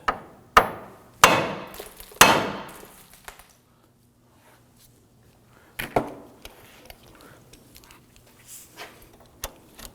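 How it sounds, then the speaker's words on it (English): A hammer strikes the steering knuckle of a 2008-2011 Ford Focus to release the outer tie rod: three sharp, loud metallic blows in quick succession, a quiet pause, then a few lighter taps and clatter. "Now we're going to use our hammer to strike the knuckle right here."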